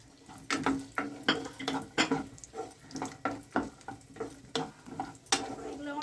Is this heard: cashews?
yes